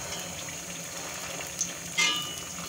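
Sukhiyan sweets fry in coconut oil with a steady, soft sizzle and a brief sharper crackle partway through.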